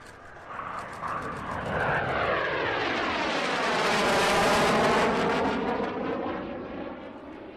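A T-38A jet trainer in a U-2 style paint scheme passes overhead at an air show, its engine roar swelling loudly and sweeping past in one continuous flyby with a shifting, whooshing tone.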